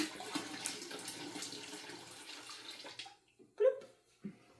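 Home-brewed beer pours into a container for bottling, a steady watery rush for about three seconds that stops, followed by a few faint splashes and knocks close by.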